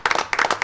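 A roomful of people at a school board meeting applauding school bus drivers, a dense burst of clapping heard only very briefly.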